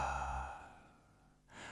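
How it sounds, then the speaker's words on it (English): A single long yawn: a drawn-out, breathy exhale that fades away, followed by a short breath. "Can you give a big yawn with me?"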